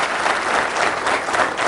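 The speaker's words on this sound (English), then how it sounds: "Can we have a round of applause for the Minister" A crowd applauding Minister Chidambaram at a public question session: thick, continuous clapping from many hands, loud and even for the whole stretch with no voices on top.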